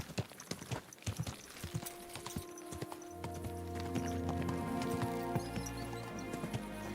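Horse hooves clip-clop in a quick, steady rhythm in the medieval video game Kingdom Come: Deliverance II, fairly close, while ambient game sounds and a low droning music bed swell in behind.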